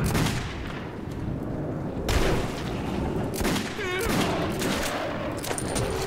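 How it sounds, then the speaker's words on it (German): Gunfire in the video game Metro 2033 comes as dense, loud bursts of rapid shots and booms, continuous throughout, with a voice talking over the shooting. "Ah, knallt sie ab! Ihr schießt!"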